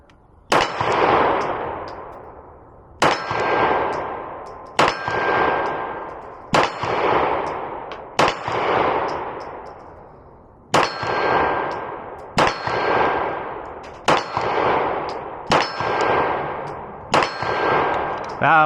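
Glock pistol fired at a 50-foot range, nine sharp loud shots spaced about two seconds apart, each with a bright metallic ring decaying into echo, no talking.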